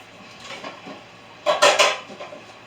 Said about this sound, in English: I grabbed my meatloaf pan.